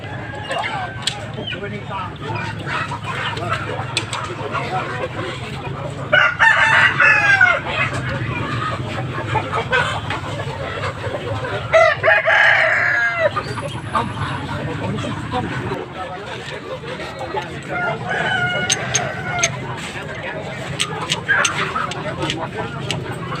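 Several roosters crow and chickens cluck amid a busy crowd, with voices chattering throughout a noisy, bustling bird and chicken market in Kemojing, Binangun, Cilacap, Central Java.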